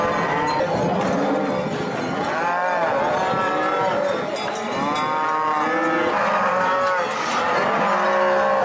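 Cattle moo repeatedly, several overlapping low calls from a herd close by outdoors, continuous and loud with no talk.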